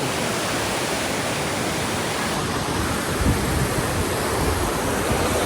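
River water in Sri Lanka rushes and flows in a continuous loud, broadband roar, steady from start to end with no talking.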